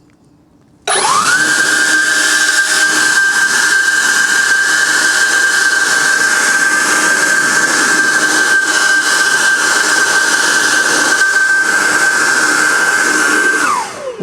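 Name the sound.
Ego 765 pressure washer spraying with stubby nozzle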